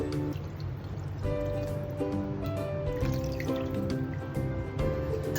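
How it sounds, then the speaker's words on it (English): Milk poured into a thickening pasta sauce in a pan, a steady close trickle and bubbling liquid with faint clinks, heard alone without talk. "adding milk again"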